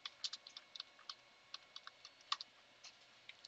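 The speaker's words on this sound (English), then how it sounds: "type which Perlbrew on your command line" Quick, irregular clicks of keys on a computer keyboard as a command is typed on the command line, light and close, with short pauses between bursts and no talking.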